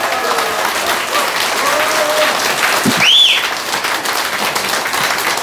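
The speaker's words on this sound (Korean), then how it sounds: "여러분 박수 한번 주십시오." Crowd of about a thousand at a political lecture in Daejeon applauds, a broad, steady wash of clapping with a brief whistle-like tone rising midway and faint voices mixed in.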